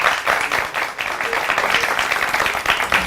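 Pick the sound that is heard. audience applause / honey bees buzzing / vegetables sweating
audience applause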